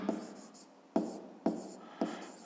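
Pen strokes on paper come in short scratchy bursts with sharp onsets at a slow irregular pace, close and fairly quiet, while math answers are written down by hand.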